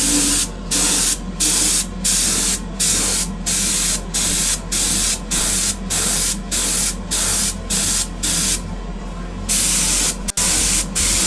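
An airbrush sprays white base-coat paint onto Greek-style vases in short, regular bursts of hiss. About a dozen evenly spaced pulses come close and loud, with a brief click near the end.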